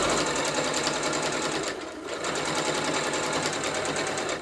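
A sewing machine stitches binding onto fabric in a steady, loud, continuous run, briefly easing off about halfway before picking straight back up, with no talking.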